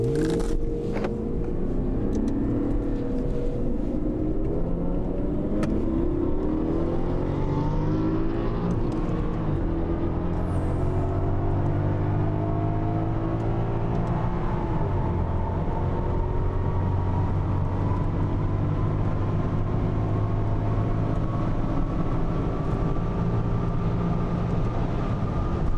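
A BMW M6 coupe drives away, its engine note climbing in pitch through several gear shifts, loud at first then holding a steady drone as it pulls off.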